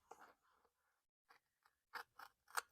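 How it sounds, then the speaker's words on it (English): Scissors trimming a paper sticker, a handful of small, close, quiet snips and clicks in a short uneven series, louder toward the end, with no talk. "now I just need to trim off this portion of the sticker"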